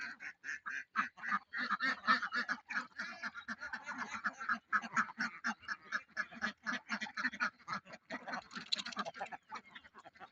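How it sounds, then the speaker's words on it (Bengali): A flock of ducks kept on a leased government canal, quacking continuously in rapid overlapping calls, close and lively, likely excited at feeding, with no talk. "আমি ওইখানে হাঁস রাখি"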